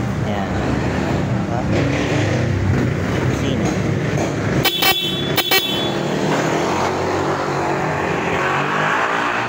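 Stock horn of a Suzuki Skydive Crossover scooter, now wired through a relay, sounds in two short blasts about half a second apart. The blasts cut through steady engine and road noise, with voices talking around them.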